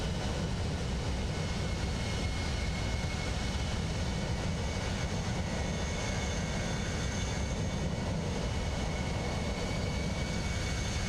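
A Southwest airliner taking off in Flight Simulator 2024, heard from an aircraft holding short of the runway: a loud, continuous broadband jet roar that stays steady the whole time.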